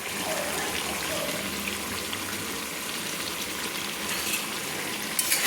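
Chicken with cashew paste is stirred in a pan over a low flame, producing a soft, continuous hissing sizzle with light scraping near the end.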